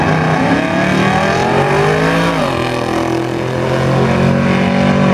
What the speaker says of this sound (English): Summit ET Racing Series Super Pro, lanes 4 and 5 is Tom Snowman, Dale's Mustang.